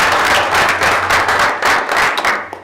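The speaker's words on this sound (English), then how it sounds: "So if we could give Seth a round of applause." Audience applause at a school board of education meeting, a dense patter of clapping from a modest crowd lasting a few seconds at steady volume, with a low hum underneath.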